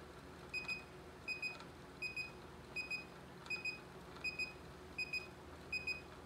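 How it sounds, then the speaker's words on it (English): A titrator testing free sulfite in wine beeps at its endpoint, sending out faint, evenly spaced double beeps roughly twice a second over a low steady hum. "I need to count 20 consecutive beeps, and that means I have finished the test"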